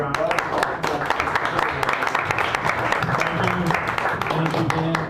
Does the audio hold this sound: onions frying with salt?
no